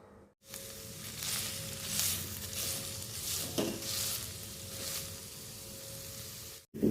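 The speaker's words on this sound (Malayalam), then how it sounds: "ഒരു പാനിലേക്ക് അല്പം നെയ്യ് ഒഴിച്ചു കൊടുക്കുക. അതിലേക്ക് നമുക്ക് പനീർ കഷ്ണങ്ങളിട്ട് ഫ്രൈ ചെയ്തെടുക്കാം." Paneer pieces fry in ghee in a pan, giving a steady close crackling sizzle that carries on for several seconds, with a faint hum underneath and no talking.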